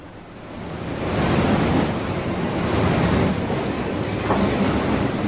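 Rushing flood water on the swollen Yamuna in Uttarakhand after a cloudburst churns with a loud, broadband roar, rising after the first second and holding steady, with faint knocks as a gas cylinder tumbles up and down.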